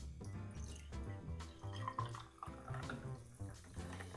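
Sparkling water poured into a cocktail glass, a quiet trickling pour with light drips and fizz beneath a faint hum, close and continuous.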